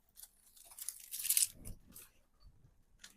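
Vellum sheets are trimmed to size for an altered Little Golden Book Star Wars journal, making a brief crisp slicing and crinkling sound that rises and fades, quiet and close with no talk.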